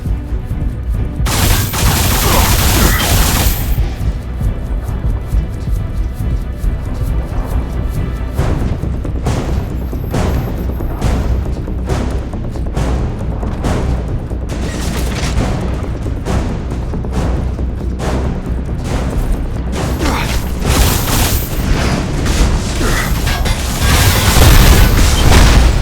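Gunfire and explosions from the sci-fi shooter game Alien Rage roar continuously, rapid weapon bursts and repeated heavy booms layered densely and loudly for the whole stretch with no pauses.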